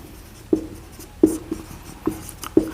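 Chalk or marker strokes on a board as a teacher writes notes during a chemistry lesson on the photoelectric effect, four distinct taps or scrapes spaced irregularly, close and fairly quiet, with no talking.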